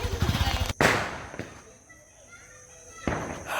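Diwali firecracker bombs burst outdoors in a village, with a sharp loud bang and a few rapid popping blasts; an excited voice shouts nearby.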